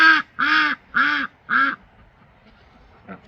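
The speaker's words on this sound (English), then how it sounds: "Some people ask which duck always makes the laughing quack sound. They all make that sound. It's just a duck sound." Ducks on a small farm give four loud, evenly spaced nasal quacks in a rising and falling laugh-like pattern, close to the listener, followed by quiet and one faint final quack.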